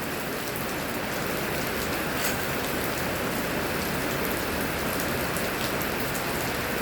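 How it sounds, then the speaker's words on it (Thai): Steady rain falls throughout on a surface, a dense even hiss with soft drop patter, continuous and alone with no voices. "ทั้งเสียงฝนเด้อฝนตก"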